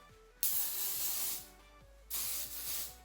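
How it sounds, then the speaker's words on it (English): Two bursts of Big Sexy aerosol hairspray onto hair, a long hissing spray then a second shorter one, close to the mic with quiet pauses. "I'm gonna take my Big Sexy hairspray"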